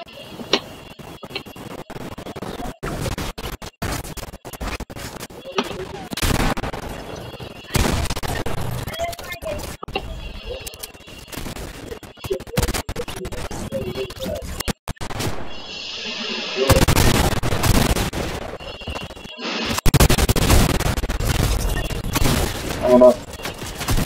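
Gunfire from a Fortnite match crackles in scattered bursts and booms amid busy game sounds, loud at times and fading at others.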